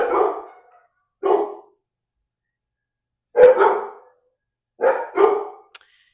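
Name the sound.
neighborhood dogs barking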